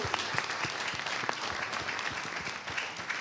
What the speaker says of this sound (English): Let's give them a big round of applause to our panelists.